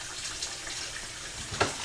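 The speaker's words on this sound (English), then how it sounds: "also why I like to put it in as I'm filling the water" Tap water runs steadily into a used coffee pot being cleaned with baking soda, a moderate continuous rush with a brief louder splash near the end.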